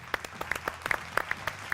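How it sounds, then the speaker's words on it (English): Applause from a live broadcast crew and control room at the end of a football club's last La Liga season game, a short burst of scattered, uneven hand claps from a small group, fairly close. "Round of applause for everyone."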